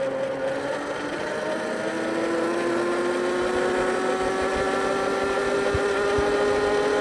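Mini bike engine at full throttle, a steady, buzzing, loud motor whine holding a high pitch and slowly rising, close to the listener throughout.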